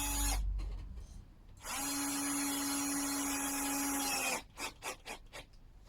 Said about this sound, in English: we'll just put a couple of screws in it to hold it there